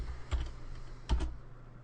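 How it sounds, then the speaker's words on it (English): Keys on a computer keyboard are pressed to type the xcopy command, a few soft clicks in two small clusters over a faint background hum. "So we type xcopy"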